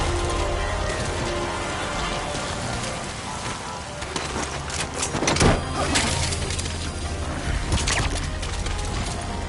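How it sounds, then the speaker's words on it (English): Steady rainfall in Metal Gear Solid V, a dense continuous hiss of drops on surfaces with a few sharper splashes and knocks mixed in, loud and close throughout. "The sound of rainfall should help to mask your footsteps."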